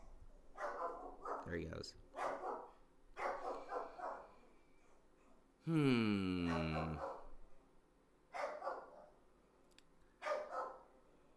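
A dog barks at home in several short, loud bursts around the middle, between stretches of someone talking close by.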